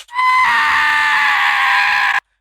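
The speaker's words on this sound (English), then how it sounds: "this is actually the sound of someone screaming" One loud, sustained scream from a single person, shrill and strained, holding for about two seconds before cutting off abruptly into silence.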